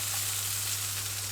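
Small mushrooms sizzle steadily in a frying pan during a full English fry-up, a close, continuous crackle with a faint low hum beneath and no voices.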